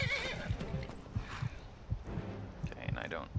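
In Skyrim, a horse whinnies with a bright, shaky neigh, followed by scattered hoof clops and low thumps, up close and fairly quiet.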